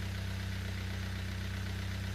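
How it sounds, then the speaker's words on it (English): A Nissan engine idles steadily with a faint ticking gear noise from the variable cam gear, a continuous low hum without talk. "Almost variable cam gear noise, but that's apparently been rebuilt, so does quieten down a little bit when it gets warmer"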